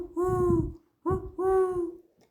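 Owl hoots played as a sound effect in a school stage play about nature: three clear, close, tonal hoots, a long call, a short one, then another long call, with no talk over them.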